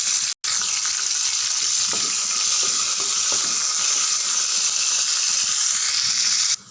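Chana dal, crushed garlic and curry leaves fry in hot oil, giving a loud, continuous close sizzle with faint stirring clicks throughout and no talking.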